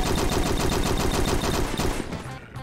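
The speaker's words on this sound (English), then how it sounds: "it's an SMG. Of course, it's gonna fire fast." The Power Reaper SMG, a chain gun replacement in modded Doom 2, fires a rapid, steady stream of loud shots for about two seconds, then cuts off into a short fading tail.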